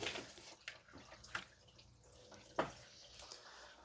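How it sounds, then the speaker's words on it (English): Engine coolant drains from a 2010 Toyota Corolla 1.8 during a thermostat housing replacement, heard as faint, close trickling and dripping with a few sharper splashes. "So the coolant is still draining."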